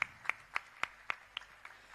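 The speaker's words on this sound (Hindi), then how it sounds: "साथियों, तालियों की कमी नहीं होनी चाहिए" Slow, evenly spaced claps greet a prize winner at a temple competition, about eight distinct sharp hand claps in a steady rhythm that grow fainter toward the end.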